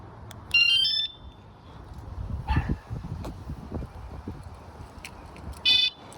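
An electric bike's add-on anti-theft alarm lets out short, piercing electronic chirps in two bursts near the start and end, over a quiet outdoor background with faint rustling.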